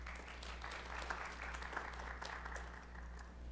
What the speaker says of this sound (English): Can we have a round of applause for their hard work?